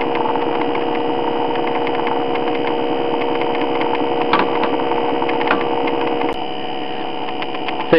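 A homemade pulse motor generator spins its rotor under a heavy load from the generator coils, giving a steady, close, evenly pitched humming drone with faint ticking pulses that runs unbroken for the whole stretch.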